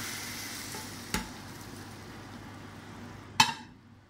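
Steady frying sizzle of tadka spices in hot oil, with a couple of sharp clinks as something is added or stirred.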